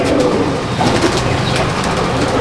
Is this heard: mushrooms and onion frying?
no